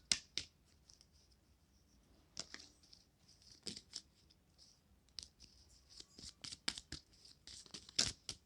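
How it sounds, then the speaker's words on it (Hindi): Tarot cards shuffled in a deck during a card reading, giving a run of crisp papery riffles, snaps and flicks in irregular bursts, close and fairly loud, with no talking. "चलिए हम एक बार और शफल करते हैं।"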